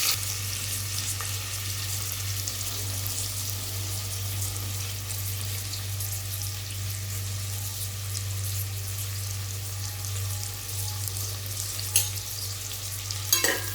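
Onions sautéing in oil for vegetable biryani give off a steady, even sizzle that continues the whole time, with faint stirring scrapes and a low hum underneath and no one talking.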